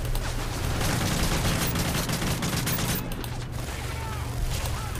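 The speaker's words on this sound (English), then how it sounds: "Where are they shooting from?" Dense gunfire in the Call of Duty Modern Warfare 3 campaign plays as a loud, continuous fusillade of rapid shots with rumbling booms underneath, easing slightly partway through.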